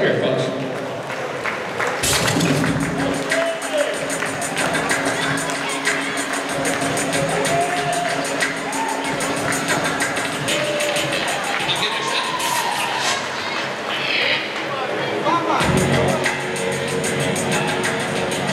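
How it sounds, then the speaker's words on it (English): An audience at a resort hypnosis show in Punta Cana claps and cheers for the volunteers, a loud, continuous wash of applause and crowd noise with bursts near the start and the end. "please use both those hands to applaud like crazy"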